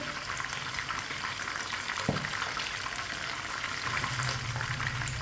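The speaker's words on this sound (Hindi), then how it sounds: "अब इसे 2-3 मिनट के लिए पकने देना है। थोड़ा थोड़ा ऑयल लेके ऊपर डालेंगे।" Chicken frying in oil over medium heat, a steady soft crackling sizzle with one brief clunk partway through and a low bubbling undertone.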